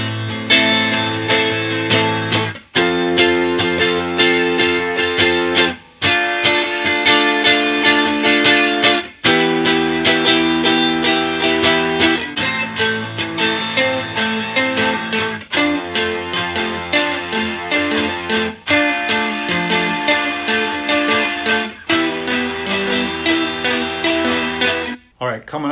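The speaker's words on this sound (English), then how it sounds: "here's what it would sound like if I played the chord pattern and then the arpeggios" Electric guitar playing a song's chord pattern, then switching to picked arpeggios, with effects-processed tone; steady, loud strummed chords in repeating phrases give way to quicker broken-note figures, played alone without talk.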